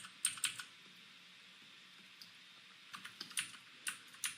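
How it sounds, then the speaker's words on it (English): Computer keyboard keys pressed while switching views, a few soft, close clicks in small clusters separated by quiet pauses. "I'm just hitting 1 and 2 on my keyboard to compare"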